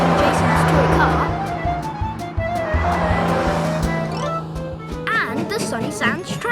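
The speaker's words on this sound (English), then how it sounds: "He loves driving Jason's toy car" Toy car driving in a children's TV series, heard as a loud revving engine with squealing tires and skids, then bouncy playful tones near the end.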